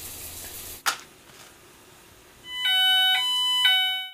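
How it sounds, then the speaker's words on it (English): A Nittan dual optical smoke alarm sounds after smoke is introduced in a test: a sharp knock, a quiet pause, then loud repeating electronic beeps in regular pulses. "Within seconds, the dual optical alarm goes off."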